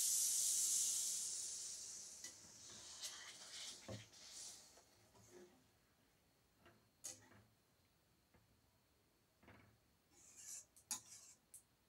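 Water poured into a hot pan of egg curry hisses loudly at first, then fades to a quieter sizzle with scattered ticks and clinks, close by and with no talking.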